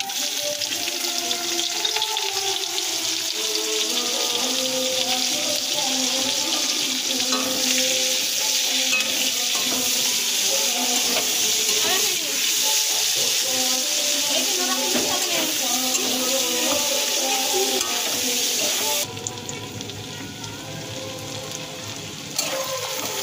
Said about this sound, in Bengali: ওই কাঁকড়া ভাজার তেলেতে আমরা পেঁয়াজ কুচিগুলো দিয়ে দেব।